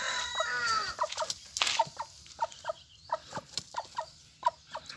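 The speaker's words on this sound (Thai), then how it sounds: "ไก่กำลังขึ้นรุ่นนะครับ" Young Thai gamecocks cluck in short, sharp bursts close by, repeating at an irregular rhythm with a brief crowing note near the start and quiet pauses between calls.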